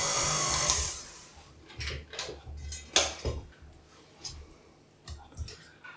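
An electric mixer creaming butter and sugar in a bowl whirs loudly for about a second, then cuts out, leaving quiet scattered knocks and clatter.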